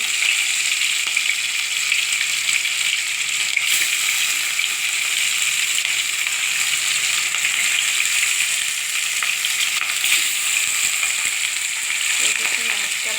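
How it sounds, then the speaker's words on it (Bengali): Fish dropped into hot oil while frying alongside cauliflower and potato for a home curry, giving a loud, steady sizzle that holds unbroken throughout with no talking. "এখন আমি মাছগুলো ছেড়ে দেবো।"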